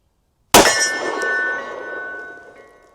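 Bullet from a 500 JRH 340 gr round striking a steel target: one sudden, loud metallic clang that rings on and slowly fades over a couple of seconds, heard alone after silence.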